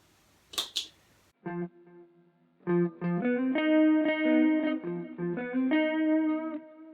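An electric guitar through a pitch shifter and delay plays a short phrase of repeated, ringing notes with a trailing echo, after two sharp clicks at the start.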